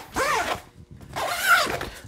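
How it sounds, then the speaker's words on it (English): Two quick zipper pulls close a Tacticon Armament rifle bag, each a close, bright rasping stroke with a brief pause between them and no voices. "Zip it up."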